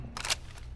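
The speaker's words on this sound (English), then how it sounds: "Loading new mag." A magazine reload in the Rainbow Six Siege Mobile game gives a brief, quiet burst of crisp mechanical clicks and clacks, over in under a second.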